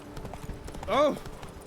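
Hooves of the horse Roach clip-clop in The Witcher 3 video game, a quick run of soft rhythmic hoofbeats, with a brief neigh-like whinny in the middle.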